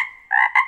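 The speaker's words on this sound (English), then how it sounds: "He's a bullfrog." A bullfrog croaks in three close, loud, resonant bursts, a long droning call followed by two shorter ones in quick succession, with no voices over it.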